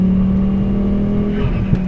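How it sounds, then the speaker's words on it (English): A modified Volvo S60 T5 engine revs loudly and steadily close by, holding a strong, even drone with only a slight waver near the end and no voices. "This is the coolest sounding Volvo I can think of."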